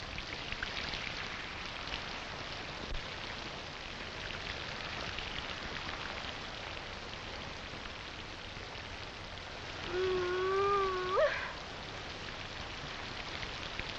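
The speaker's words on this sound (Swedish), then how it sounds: "Det var fan vad det regnar." Steady rain falls outdoors in a continuous, even wash of patter, with a brief bird call rising over it near the end and no talk.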